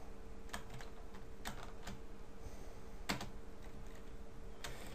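Computer keyboard keys tapped while playing Happy Wheels, scattered clicks and a few sharper key strikes over a low steady hum, close and fairly quiet with no talk.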